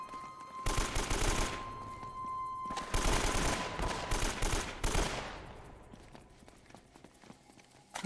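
Gunfire in Uncharted: Drake's Fortune, loud bursts of rapid shots in two main volleys, then fading into quieter rattling.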